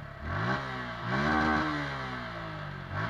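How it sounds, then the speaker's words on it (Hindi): A 2019 Suzuki Gixxer SF 150 motorcycle idles and revs twice, its exhaust rising and falling in pitch, close and steady with no voices. "इसके बाद मैं आपको देता हूँ एग्जॉस्ट नोट"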